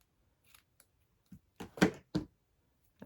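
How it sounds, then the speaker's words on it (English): Scissors snipping junk journal paper, a few sparse close crisp cuts building to three louder snips in a row, with quiet gaps between and no voices. "Well, I'm going to have to cut it."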